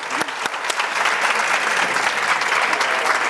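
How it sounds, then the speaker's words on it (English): A conference audience in Malaga breaks into loud, dense applause, many hands clapping evenly and close throughout with no voices over it. "A big applause."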